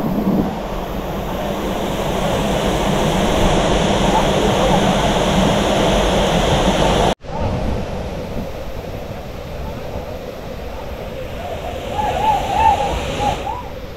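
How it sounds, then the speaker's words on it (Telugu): Soochipara waterfall in Wayanad, Kerala, roars as a steady, broad rush of falling water close by, briefly cut off and then resuming slightly softer with some faint background voices. "బ్యూటిఫుల్ నేచర్ మధ్యలో సూచిపుర వాటర్ ఫాల్"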